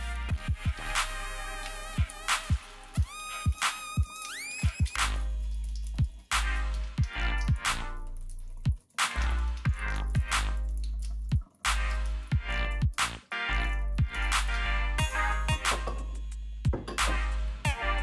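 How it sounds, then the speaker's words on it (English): Distilled water splashes and drips over aquarium plants held in a strainer, a close, irregular patter of drops and wet squishes continuing steadily throughout, with no talking. "And then rinse it off with distilled water."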